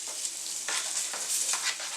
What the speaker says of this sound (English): We're going to add our aromatics,